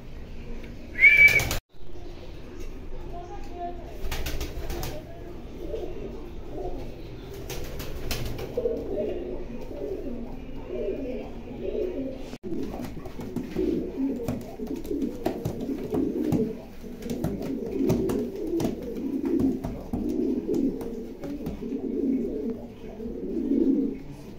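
Lahori Sirazi pigeons kept with racer chicks coo in low, repeated, rolling calls that build and continue through most of the stretch, after a brief sharp bird call and a few clicks at the start.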